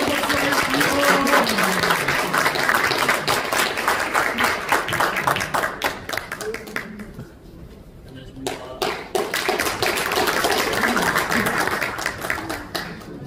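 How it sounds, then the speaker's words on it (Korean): An audience at a foundation and newspaper launch ceremony claps as a guest walks on stage, with brisk applause that thins briefly midway and then swells again, while voices talk over it. "우리 올라오실 때 큰 박수 부탁드리겠습니다"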